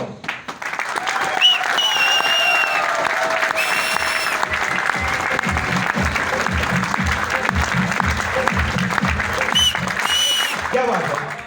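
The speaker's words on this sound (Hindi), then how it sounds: "जोरदार तालियों के साथ दोस्तों।" Audience applause at a live stage event as a performer is called up, steady clapping filling the whole stretch with tonal music and a voice weaving over it.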